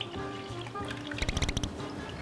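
Milk pours into a cake mixture in a home kitchen, a quiet liquid glug ending in a brief burst of splashing drips near the end, faint and close with no talk over it.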